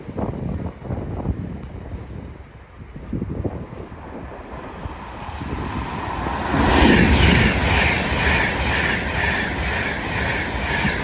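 An Avanti West Coast express train from Manchester Piccadilly to London Euston rushes through Watford Junction with a building roar, heavy wind buffeting the microphone, and a sustained loud passing rumble.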